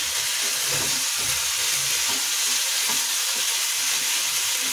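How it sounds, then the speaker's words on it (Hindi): Potatoes fry in a pan for fasting-style aloo paratha, giving a steady, close sizzle with a soft, constant hiss and faint stirring, and no talking. "ये हमारे आलू भी अच्छे से भून चुके हैं।"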